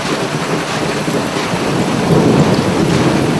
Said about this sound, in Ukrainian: ты тут гроза, це дуже погано, що гроза.